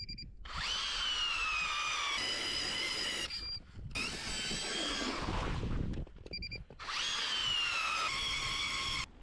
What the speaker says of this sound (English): we got to get those holes drilled and get those tip-ups down